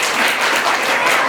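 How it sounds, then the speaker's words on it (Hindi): A short, loud burst of dense audience applause fills a parents' honouring ceremony at Chanakya Place, with many hands clapping together without pause. "भगवान कहते हैं अपने लिए ताली बजाइए, थोड़ा जोर से बजाइए"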